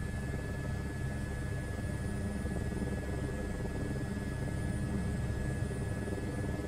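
A Robinson R22-type light helicopter in Microsoft Flight Simulator 2024 drones steadily with a constant low rotor and engine hum and a faint high whine, unbroken throughout with no talk.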